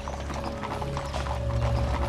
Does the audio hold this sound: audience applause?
no